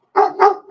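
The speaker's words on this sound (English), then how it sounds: "Sector, what are you barking at" A dog lets out two quick loud barks right up close, the second following almost immediately after the first.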